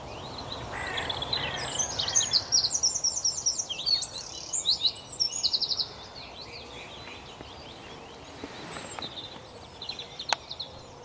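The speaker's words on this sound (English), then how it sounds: "I'm pretty sure I heard a hooded crow in the distance" Crow-like calls and chirping bird voices sound from some distance outdoors, a busy burst of calls followed by quieter scattered notes, with a hooded crow in the distance.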